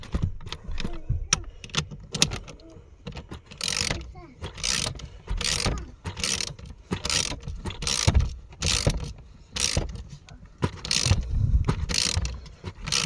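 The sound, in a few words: tightening car battery terminal, VW Touareg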